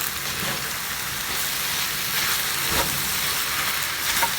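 Tofu scramble with leafy greens cooking in a pan, giving a steady, close sizzle with a soft hiss that runs throughout with no break.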